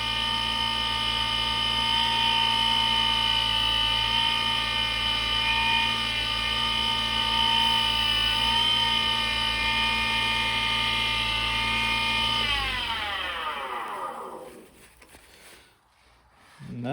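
A lathe spun at high speed while a handcrafted wooden coffee scoop is burnished: a steady, loud whine with strong tonal hum that holds for about twelve seconds, then winds down in pitch as the machine slows to a stop.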